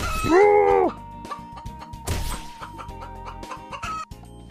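Chickens in the grasslands of the HomeWorld video game give a loud, bright squawk, followed by a second squawk and a run of quick clucks and game hit sounds.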